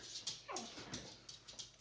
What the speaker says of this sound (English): My dogs have decided to wrestle with each other.